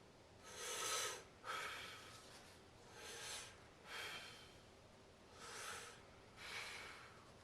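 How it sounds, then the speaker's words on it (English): Slow, deep diaphragmatic breaths demonstrated during lung inflation therapy: six broad, airy inhale and exhale swells in a steady rhythm, close and fairly quiet, with no talking. "go ahead and take a slow, deep breath"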